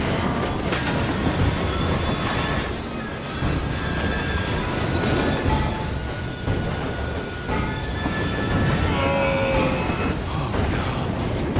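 A train runs on rails in the Assassin's Creed Syndicate video game, with a steady loud rumble, rhythmic clacking of the wheels and occasional squealing of metal throughout, with no talk.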